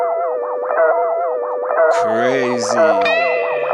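Guitar played through a BOSS GT-1000 Space Echo effect with the flutter turned right up, giving a loud, wobbling, repeating echo with chorus-like warble; a short spoken word cuts in near the end.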